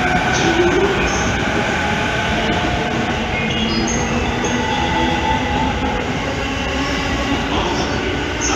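E217 series rapid train pulling into Funabashi station, a loud continuous rumble of wheels and carriages with rail clatter and faint squeals throughout, close to the platform.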